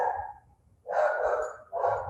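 A dog barks in two bursts, a sustained yelp-like bark then a shorter one after a brief pause, fairly close and loud.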